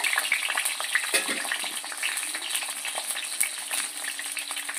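Eggplant pieces frying in hot oil in a kitchen, a steady close sizzle with crackling spits and faint stirring, no talking.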